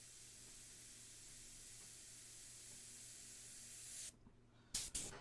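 Paint sprays from an airbrush as a steady, close hiss lasting several seconds, then breaks off into a few short bursts.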